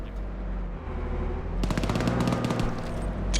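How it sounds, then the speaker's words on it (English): Sustained automatic gunfire and scattered shots in an Arma 3 battle at Rostock, with Bradley vehicles and infantry moving, sounding as dense, rapid bursts that grow louder and busier midway against a low rumbling background. "A lot of gunfire happening in Rostock"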